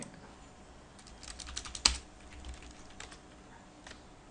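Typing on a computer keyboard at an Ubuntu desktop: a quiet, irregular run of light key clicks with one sharper keystroke in the middle, with no talking.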